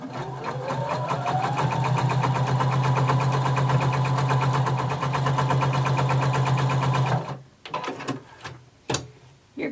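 A sewing machine runs a stay stitching line half an inch from the center front edge of fabric, a loud, steady close whir for several seconds that then stops, followed by a few handling clicks.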